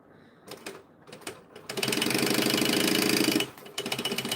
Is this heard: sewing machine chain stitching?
yes